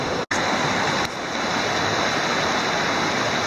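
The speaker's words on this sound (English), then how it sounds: "I have opted to come downstream a short distance to where the water is moving a little more slowly" Wild River rushes steadily along the Carter–Baldface Loop trail, a dense, continuous roar of flowing water that stays loud and unbroken throughout, with no voices.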